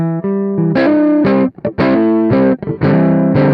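An electric guitar plays through a thick, overdriven amp-like tone, with chords and single notes ringing out loudly and without any voice.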